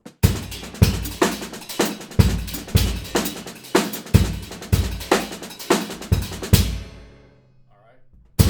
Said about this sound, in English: so on the bass drum and ride, it's going to sound like this.